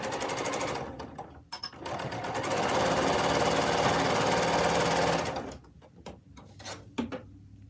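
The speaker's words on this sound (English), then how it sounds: "now we will sew these half square triangles unit and sew it to the larger square" A domestic sewing machine stitches half square triangle quilt units, running in short bursts and then one long steady whirring run, followed by quieter handling clicks and a few light knocks.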